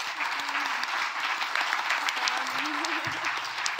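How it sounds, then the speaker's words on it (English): A symposium audience gives a steady round of applause, a dense patter of many hands clapping evenly throughout, with a voice faintly heard underneath. "Can we all give them a round of applause, please?"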